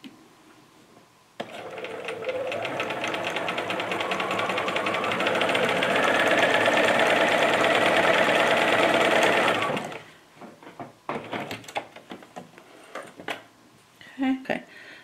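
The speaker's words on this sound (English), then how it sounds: "So I'm going to just go ahead and take a few stitches." A sewing machine runs steadily for about eight seconds, taking a few stitches on a scrap of fabric, then stops, followed by light handling clicks and a voice talking.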